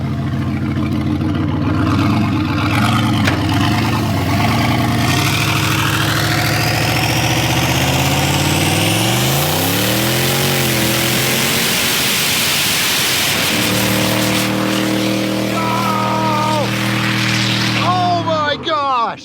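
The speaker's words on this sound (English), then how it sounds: "It does burnouts well" A loud car engine revs hard and holds at high pitch during a tire burnout, rising and falling through a long sustained roar with harsh hiss of spinning tires.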